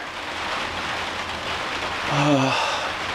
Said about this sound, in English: You hear it raining